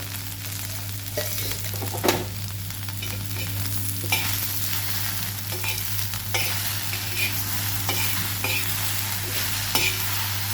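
Okra (ladies finger) fries in oil in a pan with a steady close sizzle, and a spoon scrapes and clinks now and then as it is stirred.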